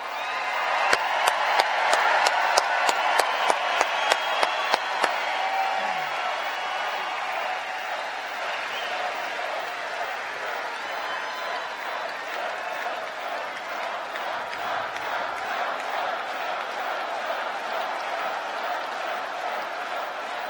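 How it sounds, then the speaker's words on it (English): A rally crowd in Fort Myers, Florida applauds and cheers President Trump: a run of sharp, distinct claps opens, then a broad, sustained roar of clapping and cheering fills the space at steady volume. "Let's give a big round of applause for your president."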